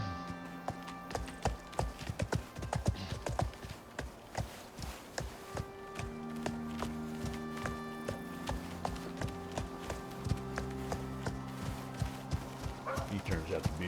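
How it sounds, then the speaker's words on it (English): A mountain horse's hooves clip-clop in a quick running rhythm in a video game, with thuds and a low hum beneath; a dog-like bark or two mixes in. "He turns out to be a mountain horse"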